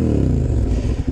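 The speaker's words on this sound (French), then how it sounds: "je vais essayer de laisser un maximum le son de la moto." A twin-cylinder motorcycle engine revving with a low, throbbing roar that slides down in pitch, loud and close, with no talk over it.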